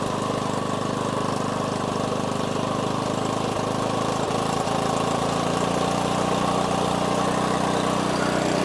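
An RV engine running steadily on the road, a constant droning rumble with a slight rise as it speeds up, close and loud with no talk.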